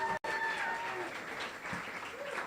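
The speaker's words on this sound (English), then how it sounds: "Round of applause to all our poets that came this evening." An audience at an evening of poetry, jazz and songwriting applauds the poets, a full, steady burst of clapping with a short break near the start.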